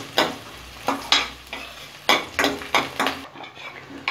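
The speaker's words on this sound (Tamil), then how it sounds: "ஒரு 2 நிமிஷம் மட்டும் இதை வதக்கிக்கலாம்." Chopped onion sautéing in a pan, cooked only briefly to stay crunchy, with repeated sharp spatula scrapes and knocks against the pan over a light sizzle, close up and rhythmic, no voices.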